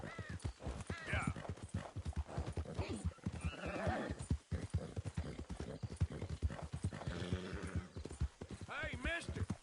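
Horse hooves clip-clop in a steady rhythm in Red Dead Redemption 2, with a horse whinnying now and then, heard under ongoing talk from several voices.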